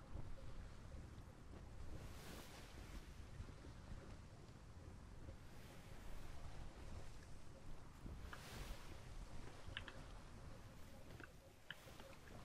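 Ocean waves wash past a sailing ship in the video game Atlas, a continuous rushing surf with wind that swells and eases in slow surges, no voices.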